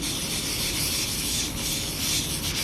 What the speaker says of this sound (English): This is with the 1000 grit sandpaper.